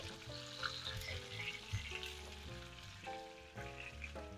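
Lamb chops frying in a pan with their fat rendering down, a steady close sizzle with faint crackles throughout and no talking.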